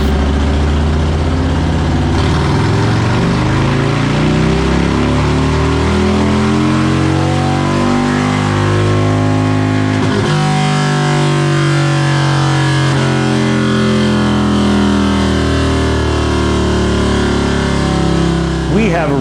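Loud, sustained roar of a Harley M8 Lowrider engine on a dyno, running e85 with a plug-and-play auto tune, climbing steadily in pitch through a power pull with a shift-like dip midway, while voices talk faintly underneath.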